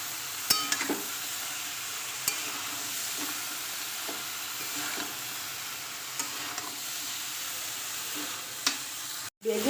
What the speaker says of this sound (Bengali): তো আলু বেগুনের সাথে আমি কিছুটা কিছুক্ষণ কষিয়ে নেবো